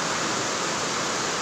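Heavy rain pours down in a dense, steady hiss that stays constant and fairly loud, with no voices heard.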